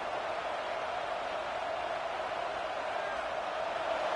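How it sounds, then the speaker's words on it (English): Steady crowd roar filling a college football stadium early in a game, a dense continuous wash of many voices at constant loudness throughout, without distinct cheers or individual words standing out. "This crowd bringing the energy and noise early."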